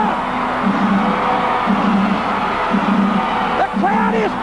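A large wrestling crowd in Tulsa roars and whoops continuously, dense and loud, with rhythmic bursts of chanting and a rising shout near the end.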